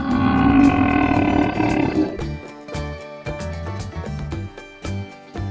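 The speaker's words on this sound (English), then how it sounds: "Come on now, burp your sister out." A long, loud cartoon-style burp from a Peppa Pig toy after a chocolate pool game: one sustained, buzzing belch of about two seconds, followed by a run of light toy clatters and taps.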